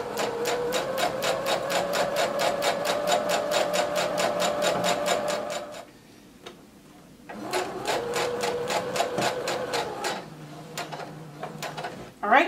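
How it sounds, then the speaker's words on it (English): A sewing machine stitches a maxi skirt side seam with a fast, steady needle rattle that stops briefly midway, resumes for a few seconds, then trails off, with no talking. "you're going to continue sewing until you get to the side slit"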